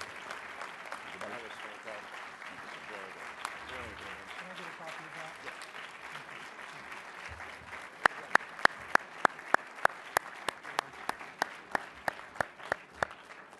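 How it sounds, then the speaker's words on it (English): Scattered applause rises from the audience at a mayors' plenary session, soft and diffuse at first, then a run of sharp, evenly spaced claps stands out close by while faint speech murmurs underneath. "Let us give him another big, big round of applause."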